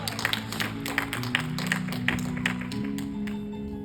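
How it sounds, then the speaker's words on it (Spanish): A church congregation applauding, scattered hand claps with a few sharp accents, heard over sustained music in a large room. "Dale ese aplauso fuerte al Señor"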